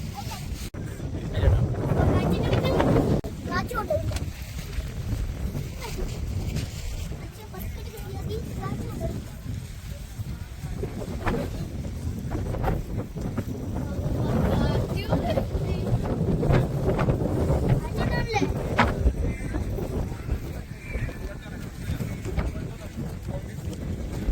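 A strong, cold wind blows at Kakkadampoyil, roaring and buffeting steadily for the whole stretch with gusting rumble, while people talk over it.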